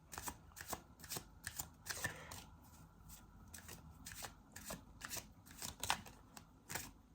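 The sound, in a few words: shuffling tarot cards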